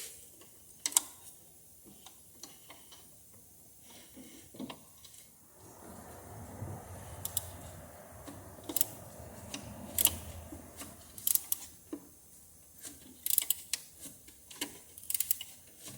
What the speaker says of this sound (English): got me a ratchet wrench